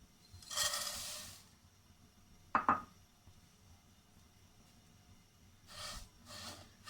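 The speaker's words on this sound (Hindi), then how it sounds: "बस ऐसे चम्मच चलाते जाना है ताकि ये जले ना" Spoon stirring oats roasting in a pan on a stove: two soft scraping swishes and a light metallic clink, faint and sparse in a quiet kitchen.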